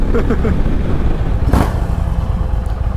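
An Indian Challenger motorcycle engine runs close by with a steady, heavy low rumble throughout and a brief louder surge near the middle.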